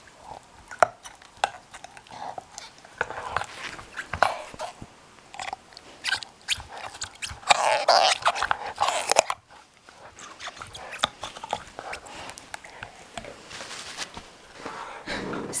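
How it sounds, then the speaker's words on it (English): A small dog chomps and gnaws on a bone nearby, giving irregular crunchy bites and chewing bursts that run almost the whole time, busiest in the middle, with no talking over it. "it's that little munchkin chomping away on his bone."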